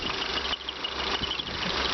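A 1997 Honda Accord's 16-valve four-cylinder engine idles under the open hood, a steady low hum with a faint, even mechanical tick, recorded close and alone.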